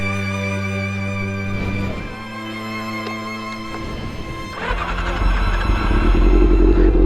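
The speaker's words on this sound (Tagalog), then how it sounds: "Yan yung gamit natin na motor." A Honda CB400 Super Four four-cylinder motorcycle engine runs steadily with a droning hum, then rises in pitch and grows louder as it revs up near the end.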